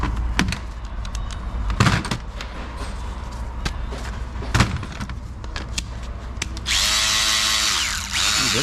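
A power tool motor, freshly greased after running dry, whirs amid clicks and handling noises, then revs up into a steady, loud, high-pitched whine near the end.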